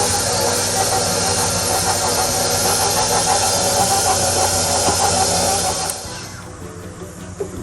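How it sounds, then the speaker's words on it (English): An electric mixer whirs loudly and steadily as it creams butter for Christmas cookies, with a high hissing whine that cuts off near the end and leaves a quieter rattle. "since the butter was our first liquid, I'm gonna let this start mixing it a little"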